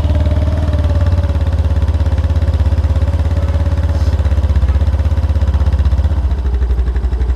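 A 2023 Honda Dio 125 scooter engine idles steadily up close, its exhaust putting out an even, rapid low thrum that holds constant throughout.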